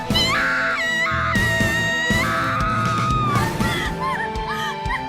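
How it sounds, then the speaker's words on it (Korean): A young woman screams and wails in distress in a Japanese anime scene as a man lunges at her. Several long, shrill, anguished cries come one after another at full loudness, with a muffled scuffle and music-like tones underneath. "덮치는 텐젠과 비명을 지르는 오보로."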